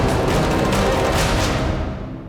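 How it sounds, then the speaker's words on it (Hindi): A powerful controlled blast destroying an IED on a highway in Rajouri rumbles and roars, a dense wall of low booming noise that slowly fades away. "आप सुन सकते हैं, बहुत जबरदस्त धमाका हुआ"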